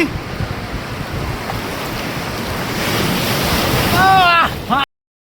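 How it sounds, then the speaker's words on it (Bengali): Sea surf rolls and surges around bathers at Digha beach, a loud, continuous wash of breaking waves that swells toward the end, with wind buffeting the microphone. "এখন ঢেউয়ের মধ্যে আছি।"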